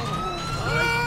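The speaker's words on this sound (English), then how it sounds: "I'm gonna turn off the siren not to spook the suspect." A police siren wails in GTA 5, rising and sliding in pitch as a continuous tone over a steady low car engine rumble, with no voices in the short stretch.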